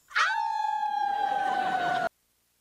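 Several people imitate a wolfpack howl together, a sustained rising then gently falling group wail lasting about two seconds, loud and close, ending abruptly.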